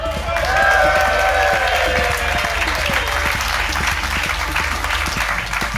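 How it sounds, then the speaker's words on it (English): A theatre audience at a live comedy podcast recording gives a steady round of applause, dense clapping from many hands that holds evenly throughout. A voice rises briefly above the crowd near the start. "Very polite round of applause."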